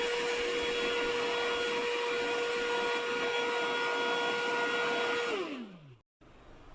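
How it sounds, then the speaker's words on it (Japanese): A vacuum cleaner runs steadily and loudly up close, sucking dust off a PC's CPU cooling fins, then its motor note winds down and cuts off near the end. "フィンに溜まっていたホコリは掃除機で吸い取ります。"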